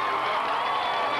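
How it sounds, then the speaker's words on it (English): A stadium crowd at the Coca-Cola 600 qualifying at Charlotte roars in a steady wash of distant cheering for new pole sitter Jeff Gordon. "the crowd's hooping it up"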